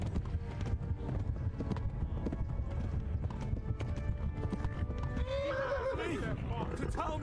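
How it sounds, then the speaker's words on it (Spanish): A horse in the medieval game Kingdom Come: Deliverance gallops with a continuous drumming of hooves, then lets out a loud, shrill neigh near the end, with someone talking over the action. "Y el caballo se cansa, tío."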